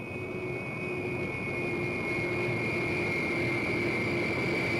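An airplane landing in a 1979 film, a steady loud engine roar with a whining tonal drone holding constant throughout.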